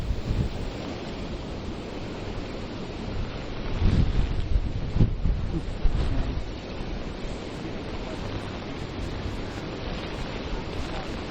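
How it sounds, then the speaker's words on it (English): A storm's wind and heavy rain batter the microphone during a live outdoor news report, a loud continuous roar with gusty surges partway through and no talking. "the camera shaking in the wind, heavy rain pouring down"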